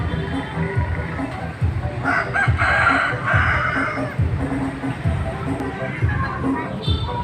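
Chickens cluck and a rooster crows amid a busy outdoor setting, with people talking nearby over a low background hum.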